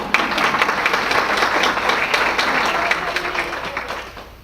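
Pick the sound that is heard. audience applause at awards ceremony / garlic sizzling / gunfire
audience applause at awards ceremony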